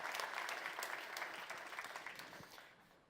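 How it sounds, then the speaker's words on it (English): Audience applause for sponsors at a welcome address, steady dense clapping throughout that thins slightly toward the end, moderately distant and somewhat quiet. "I think we should give them a round of applause for their generous sponsorship."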